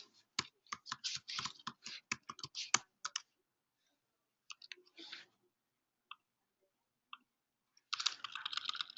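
Bursts of keyboard typing as an email address and password are entered, quick close clicks in clusters separated by pauses, quiet and alone.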